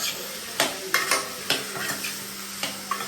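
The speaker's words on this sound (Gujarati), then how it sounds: "એને ગેસથી નીચે ઉતારી દઈશું એકવાર સેજ હલાવીને" Okra curry being stirred in a pan over a gas flame for a Gujarati bhindi shaak, with a steady sizzle of frying under repeated sharp scrapes and clinks of the spoon against the pan, close and alone.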